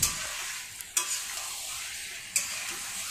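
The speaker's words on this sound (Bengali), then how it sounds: "টমেটোটা দিয়ে একটু কষিয়ে নেব" Chopped tomato is sautéed with mutton in a pressure cooker pot, giving a constant hissing sizzle. Two or three sharp scrapes of a spatula stand out against it, and there is no talk.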